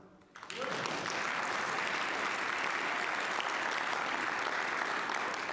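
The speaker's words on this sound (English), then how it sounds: "And so clap for them." Audience applause fills a church during its annual parish meeting, a dense, steady clapping from a sizable congregation that swells in quickly and then holds at an even level right to the end.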